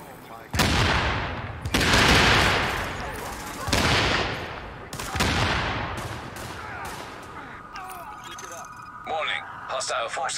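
Bursts of gunfire from The Division video game, several loud volleys of rapid shots in the first half, then sparser shots with other game sounds, while speech runs alongside.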